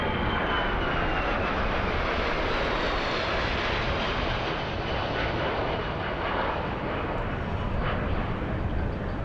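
A steady, loud roar of a Boeing 757 airliner passing overhead at an air show at RAF Fairford, a broad continuous rumble that holds for the whole stretch with no voices.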